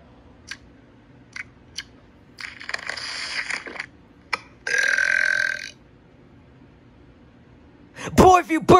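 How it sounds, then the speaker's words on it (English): Cartoon burping from a talking virtual cat in a mobile game, several short separate belches spread across the clip, with a few longer noisy bursts and a final loud, rough burp at the end. "Boy, if you burp one more time,"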